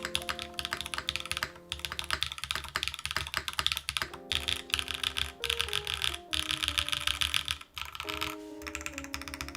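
Typing on a Wing by Clever mechanical keyboard produces rapid, continuous keystroke clacks close by with brief pauses, while soft background music plays underneath.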